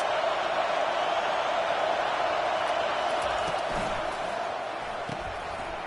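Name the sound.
stadium crowd at Oregon football game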